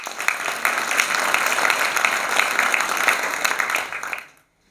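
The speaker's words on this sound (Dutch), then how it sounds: "Geef hem even een applaus." Audience applause at a film premiere, dense sustained clapping from a crowd filling the room, steady and fairly loud before cutting off abruptly near the end.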